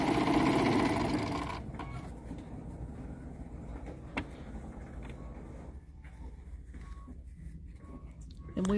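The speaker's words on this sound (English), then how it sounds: "I'm just going to go ahead and chain piece all of them on one side" A sewing machine chain piecing fabric pieces for charm table runners, with a brief burst of fast stitching at the start that drops away into quiet room noise.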